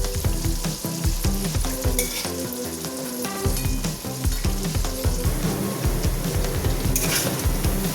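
Paneer fries in a pan over low gas and gives off a steady, close sizzle. Stirring scrapes and soft clicks run through it without a break, and no one talks.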